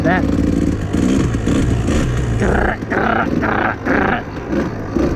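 A two-stroke motorcycle running rich at low to moderate RPM after rejetting, its exhaust a steady, rough, loud drone close by, with a voice speaking over it.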